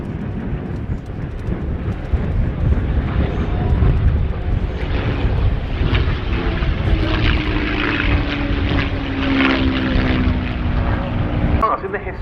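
North American P-51 Mustang piston-engine fighters at the Duxford Battle of Britain airshow, giving a sustained propeller and engine drone that swells and fades as they pass, with a commentator talking over it.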